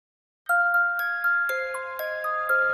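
A bright ding-dong notification chime with bell-like tones plays alone and clearly, a sequence of ringing dings repeating over a few seconds after a brief silence.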